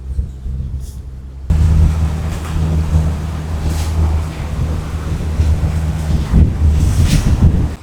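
Gusty wind buffets the microphone at an exposed riverside slipway on the Beaulieu River, a low steady rumble that jumps louder after the first second and keeps surging in uneven blasts, no voices.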